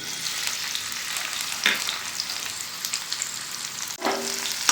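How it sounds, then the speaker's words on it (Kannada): Onions frying in hot oil for a tempering, a steady close sizzle with occasional stirring scrapes and a louder burst near the end, no talk. "ಈ ಥರ ಈರುಳ್ಳಿನ ಫ್ರೈ ಮಾಡಬೇಕು ಚೆನ್ನಾಗಿ ಫ್ರೈ ಆಗಬೇಕು ಈರುಳ್ಳಿ"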